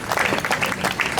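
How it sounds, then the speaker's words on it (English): Applause from an audience at an evening Maasai show at a Zanzibar beach resort spa forms a dense, close crackle with uneven surges in loudness. It carries on without a break. "would you please begin the applause for the Maasai Lengwanani, or Babu, please."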